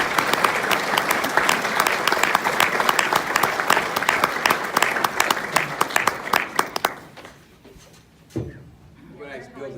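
Banquet audience at a 2018 Chamber of Commerce dinner applauding Bill Kren, dense sustained clapping for about seven seconds before thinning out into quiet room noise with a few stray claps.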